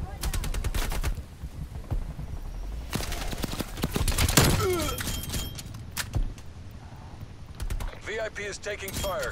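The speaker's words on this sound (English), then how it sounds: "VIP is taking fire." Rapid bursts of automatic gunfire crackle during a video game VIP escort mission, dense volleys and sharp single shots stacking up close and loud over a busy mechanical din, with voices talking through it.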